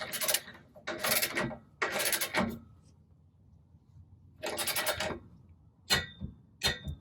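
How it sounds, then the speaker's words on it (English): A torque wrench clicks several times at a higher torque setting while installing running boards on a Toyota Tacoma: sharp, bright ratcheting snaps in quick bursts, fairly close, with short pauses between groups and no talking. "Since this is a higher torque, it'll click a little louder."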